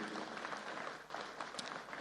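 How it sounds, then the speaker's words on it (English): Applause from an audience at a formal event in Nigeria honouring a professor, a dense, steady clatter of many hands clapping close by, filling the whole moment without pause. "please stand up and let's give him a round of applause, Professor Ishak Oloyede."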